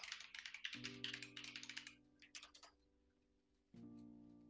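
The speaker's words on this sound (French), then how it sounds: "Les claviers voilà, mécaniques." Rapid keystrokes clatter on a mechanical computer keyboard in short bursts, fairly close, with a low steady hum that drops out and returns, and no one speaking.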